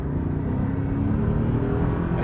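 A 2003 Dinan BMW Z8 engine hums along while driving under very light throttle, a steady, close, low rumble with an even drone and no surges.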